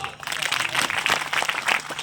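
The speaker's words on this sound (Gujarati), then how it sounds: "સંતોને તાળીઓ." Applause for saints at a religious gathering in a village devoted to Jai Guru Maharaj: a crowd claps in a dense, steady patter with voices mixed in.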